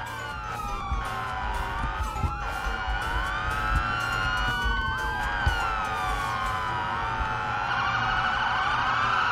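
Multiple police sirens wailing and yelping at once during a cops-versus-robbers event in the Roblox game Emergency Response: Liberty County, overlapping loudly with steady rising and falling tones and no talk.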